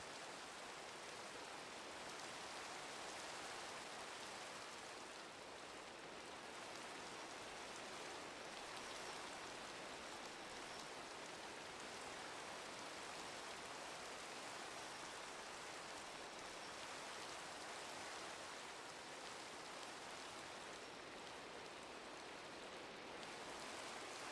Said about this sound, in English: I'm free to meet you as soon as this rain clears.